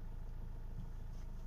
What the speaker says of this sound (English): As you see, this is the engine noise.